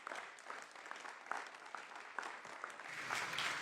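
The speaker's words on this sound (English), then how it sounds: "So you can clap for that, yeah." An audience at a legislative floor session claps for an Assembly Member, a short burst of light, close-mic'd applause that thickens slightly toward the end.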